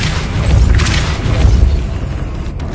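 A Depulso force spell fires in Hogwarts Legacy, a deep booming blast with rumbling low-end pulses that swells and holds for a few seconds amid game ambience.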